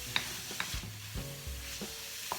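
Pre-cooked peas, carrots and sweet corn warm in a pan with a faint, low sizzle, broken by a few light spoon taps and scrapes.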